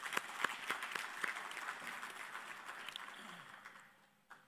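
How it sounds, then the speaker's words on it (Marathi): An audience at a Maha NGO Federation World Book of Record award ceremony claps for Shekhar Mundada, a dense patter of scattered hand claps that thins and fades near the end, fairly quiet and distant. "त्यांच्यासाठी एक स्पेशल टाळ्या वाजवल्या पाहिजे आपण सर्वांनी"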